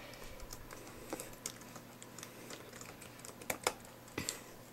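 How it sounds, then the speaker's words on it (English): Keys tapping on a Dell laptop keyboard as a password goes in, soft irregular clicks scattered across a few seconds with a couple of sharper strokes near the end, faint and close with no talking. "type in a password for my PC"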